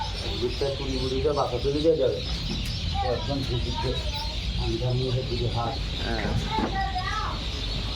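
A crowd of Khaki Campbell ducklings peeps and chirps continuously at a duck farm, dense high calls layered over a steady background hum, with no talking.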